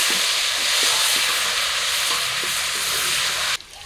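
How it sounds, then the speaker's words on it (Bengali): Potato pieces frying in hot mustard oil in a kadai for a country chicken curry, a steady loud sizzle with faint stirring scrapes that cuts off abruptly near the end. "তেল গরম হয়ে গেছে, আলু দিয়ে দিলাম।"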